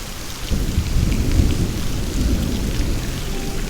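Heavy rain pours down with rumbling thunder beneath a bridge, a dense, steady roar of falling water and low booming close by, continuous throughout with no voices.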